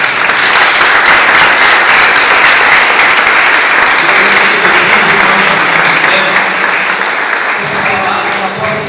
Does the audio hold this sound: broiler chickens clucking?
no